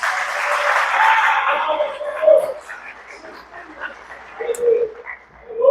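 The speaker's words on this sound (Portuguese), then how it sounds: "Você pode aplaudir ao Senhor por isso?" Congregation applauding during an evening church service, a broad wash of clapping that swells and fades across the span, with voices and organ-like tones mixed underneath.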